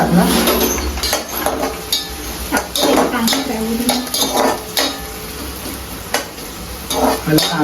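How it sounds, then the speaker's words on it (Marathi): Chopped onion hits hot oil in a home kitchen pan, setting off a loud, close sizzle with stirring scrapes and clinks of a spoon against the pan throughout. "आता तेलचा मस्त आवाज आलाय कांदा टाकायचा थोडा"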